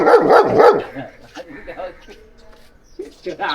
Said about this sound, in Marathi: टायगर कव्वाला ओरड ओरड त्या कव्वाला लवकर बघ ओरड त्याला